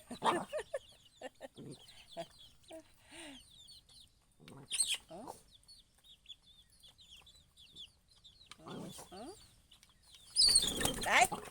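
A chicken clucks and squawks in short bursts, with loud wing flapping near the end; faint voices murmur in the background.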